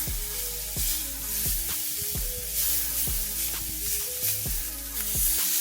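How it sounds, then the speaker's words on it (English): Green beans sautéing on a stovetop over medium-low heat give a steady, close sizzle, broken by regular clicks and scrapes as they are stirred. "We're gonna have this saute on medium-low for about 3 to 5 more minutes"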